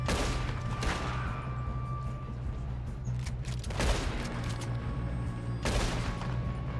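Gunshots ring out during a robbery in the video game Red Dead Redemption 2, a few loud cracks spaced several seconds apart over a dense, rumbling background.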